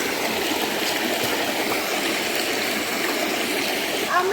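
A freshwater stream flows down from Saddle Peak in Diglipur, North Andaman, giving a steady close rush and trickle of water that lasts throughout.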